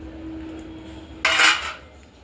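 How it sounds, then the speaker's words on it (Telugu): Pieces of ginger drop into a stone mortar with one brief clattering knock after a quiet lead-in, close and alone, fading quickly. "అల్లం ముక్కలు చేసుకొని రోట్లో వేసుకుందాం."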